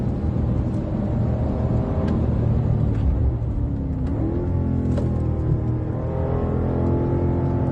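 A BMW M5 safety car engine pulls hard under acceleration, a steady loud close-up rumble with rising whining tones as revs climb, shifting pitch through the run.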